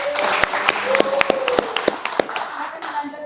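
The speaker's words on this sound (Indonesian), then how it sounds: "Tepuk tangan untuk mereka sendiri." A small talk-show audience claps for the introduced guests, with sharp individual hand claps standing out over a thin patter and a voice speaking underneath.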